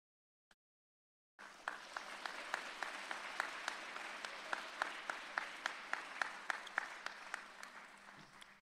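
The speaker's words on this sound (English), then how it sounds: "let's give Lou Hill one last big cheer" Applause from the mourners at a memorial service for coach Lew Hill bursts in after a brief silence and holds steady, a dense, sustained round of clapping with sharper individual claps standing out.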